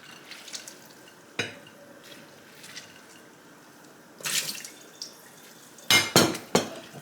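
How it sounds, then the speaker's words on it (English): Water splashes and drips in a kitchen as blanched vegetables for bibimbap are squeezed by hand, with soft wet squelches and a few louder bursts of dripping and pouring near the end, no talk. "I'm gonna squeeze all the water out of this."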